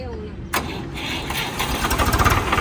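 A green Swaraj 735 tractor with a weak battery cranks briefly and catches, its diesel engine settling into a loud, throbbing idle close at hand.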